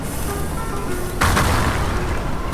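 Grenadier bombs exploding in the strategy game Age of Empires 3, a sudden deep boom cutting through steady battle noise midway, followed by a rumbling tail.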